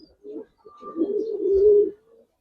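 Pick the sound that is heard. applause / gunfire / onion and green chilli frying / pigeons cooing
pigeons cooing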